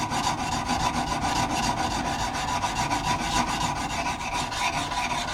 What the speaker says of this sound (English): whether you're using a diamond sharpener, then I can finish it off with that one